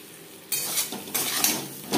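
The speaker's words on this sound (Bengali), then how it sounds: "লবণ হলুদ দিয়ে আলু ভেজে নেব।" Potato pieces frying in oil with salt and turmeric for a Bengali mutton curry, heard as a close, steady sizzle broken by several scraping stirs of a utensil in the pan.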